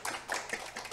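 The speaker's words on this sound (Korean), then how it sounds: "응원의 박수 부탁드리겠습니다" Brief burst of audience applause at a corporate gathering, dense clapping from a nearby crowd for about a second, with no voices over it.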